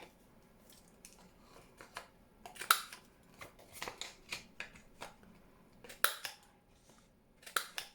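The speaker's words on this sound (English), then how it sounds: "I'm going to cut this tape down a little bit and around the corners" Scissors snip through tape during a junk-journal craft session, a few quiet, irregular cuts scattered across a hushed background with no talking.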